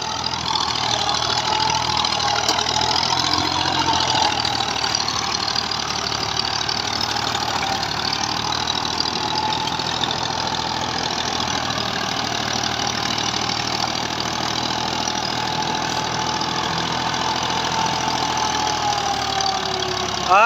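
A 1984 Model 240 tractor in third gear drives a 54-blade rotavator, its engine droning steadily and loudly at close range for the whole stretch, with no pauses and no voices.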